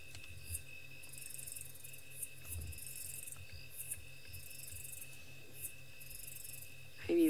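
Crickets and other insects chirp in regular, pulsing bursts on a live safari stream, a steady high trill with quieter insect buzzing and a faint low hum beneath, ending in a brief louder thump.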